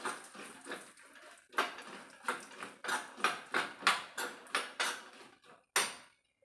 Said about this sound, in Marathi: त्याच्यामध्ये आपल्याला हे दाणे टाकून द्यायचे आहे आणि छान मिक्स करून घेऊया